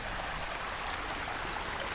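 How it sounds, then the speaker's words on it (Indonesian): Small stream from the Krasak river flowing continuously, a steady close babbling and rushing of water without voices. "ada sungai-sungai kecil atau kali-kali kecil seperti ini"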